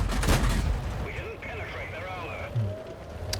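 Artillery fire in a tank video game with a Covenanter tier 5 tank: an early loud boom and rumble, then a whistling incoming shell and a softer thud, with someone talking over it.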